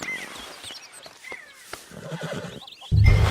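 A horse whinnies in Red Dead Redemption 2, a drawn-out, wavering call, ending with a loud, snorting roar-like blast up close.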